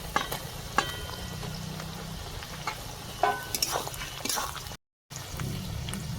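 Chopped tomato hits a frying pan for chicken masala curry, bringing a moist sizzle broken by spoon clinks and stirring scrapes, close and moderate, with a brief dropout near the end.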